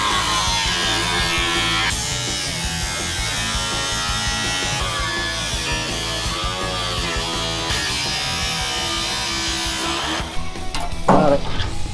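A cutoff wheel grinder, the so-called death wheel, cuts metal on a rat rod wrecker, giving a loud, steady, harsh whine for about ten seconds before it stops.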